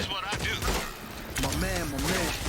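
Bursts of gunfire from the shooter game Rogue Company crackle through the mix as rapid repeated shots, with a player talking over them.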